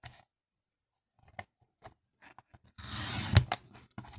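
Scissors snip through a paper card during a craft project, a short burst of close, crisp cutting after a quiet stretch with a few faint handling taps.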